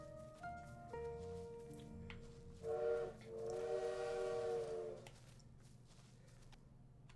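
In the video game Little Witch in the Woods, a bird imitates a train whistle: short whistle notes lead into a sustained, multi-toned blast, fairly faint over a low rumble, then fading away.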